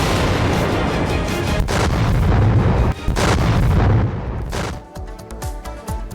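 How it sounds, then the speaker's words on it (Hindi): Continuous artillery bombardment during Israeli strikes on Hezbollah: a dense, roaring rumble of heavy booms and blasts that fades into scattered sharper pops and cracks at the end, with no voices. "तो देखिए, लगातार बमबारी जारी है"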